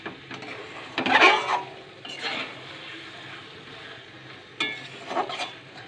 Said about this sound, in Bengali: গরম মশলা দিয়ে দেবো, দিয়ে একটু ভালো করে নাড়িয়ে টাড়িয়ে নিয়ে